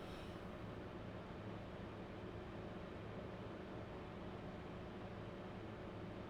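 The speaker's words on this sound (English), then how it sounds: "You sort of just hear the whir of the air conditioning there as well." Air conditioning inside a city bus in The Bus driving simulator gives a steady, even whir with no variation, heard alone, with the windows closed.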